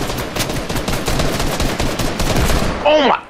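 Desert Eagle pistol fire in an online shooter, with a headshot landing amid a dense, loud, chaotic mix of rapid shots and impacts that cuts off briefly near the end.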